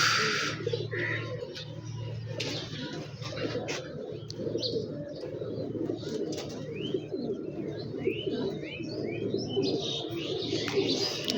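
Pigeons coo in low, repeated murmurs throughout, with scattered brighter chirps and twitters from other birds nearby.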